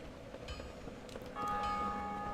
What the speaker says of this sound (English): oh, there's another bell.